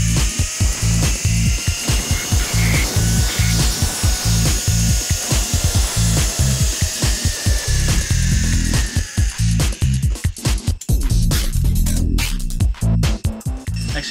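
Zip-line trolley running along a steel cable through the Cambodian jungle near Siem Reap; a steady, loud whirring rumble with rapid rattling clicks throughout, intensifying toward the end.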